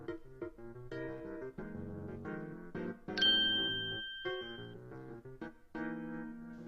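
A cartoon doorbell chimes a bright ding-dong partway through a children's reading story, set among light melodic music tones that play on either side of it.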